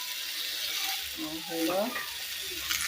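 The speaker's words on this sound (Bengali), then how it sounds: "মশলা দিয়ে মুরগির পাগুলো ভালো করে কষিয়ে নেব।" Chicken feet sizzle and crackle steadily in a hot pan with onion, ginger paste and spices, with a faint voice briefly rising beneath the frying.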